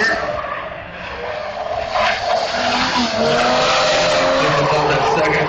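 A drift car swings into a slide three-quarters of the way up the banking at Toyota Speedway in Irwindale during an All-Star Drift Series event, its tires letting out a loud sustained screech over a roaring engine.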